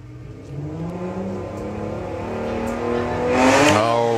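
Volkswagen Beetle drag racing at Santa Pod, with engines revving and building in pitch as the cars launch, loud and steady throughout with no talk.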